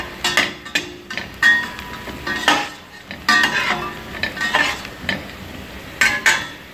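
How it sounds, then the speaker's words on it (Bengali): Onions and spices frying in a pan for a meat dish, with a spoon repeatedly scraping and clanking against the metal pan over a soft sizzle, in close, uneven bursts. "তো পেঁয়াজ মশলা সব ভাজতেছি"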